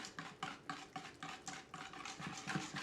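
A whisk beats eggs into flourless, gluten-free chocolate cake batter in a quick, regular rhythm of close scraping strokes against the bowl, with no talking.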